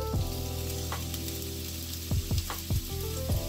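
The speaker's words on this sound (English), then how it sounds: "I have a large white onion that I've just thinly sliced, and I'm going to throw this in the pan." Thinly sliced large white onion frying in a little oil in a pan over medium-high heat gives a steady close sizzle, with a few louder bursts of crackle as the pieces are stirred.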